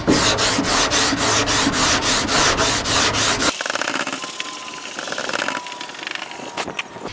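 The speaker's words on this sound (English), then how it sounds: "I can continue sanding this and all that's gonna disappear." Steady back-and-forth rasping of a sanding block on car paint, a quick regular rhythm of strokes, then quieter, slower scuffing toward the end.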